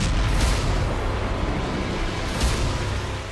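A rocket strike exploding against a building in Lebanon–Israel fighting involving Hezbollah, heard as a continuous heavy, rumbling blast roar that stays loud throughout with a couple of brief surges, like distant detonation noise in wartime footage.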